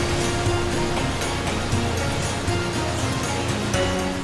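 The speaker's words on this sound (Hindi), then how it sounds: "आंखों को सुकून देने वाला चीन का एक खूबसूरत वाटरफॉल।" A large waterfall in China, a dense, continuous roar of rushing water that stays loud and steady throughout, with no voices.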